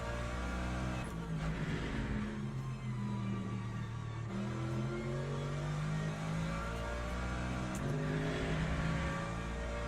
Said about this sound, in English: And the hypercars are coming.